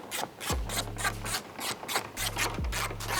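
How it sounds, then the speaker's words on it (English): T30 screws are backed out of a Porsche 992 rear bumper with a ratcheting driver, a close series of rhythmic rasping clicks in repeated strokes, with two short whirring bursts as screws spin free. "we are going to remove the final 8 T30s along the rear of the bumper"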